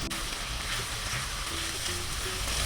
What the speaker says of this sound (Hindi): फ्राई करते हुए तकरीबन 5 से 7 मिनट के दौरान ये कलेजी अच्छी तरह गल जाएगी।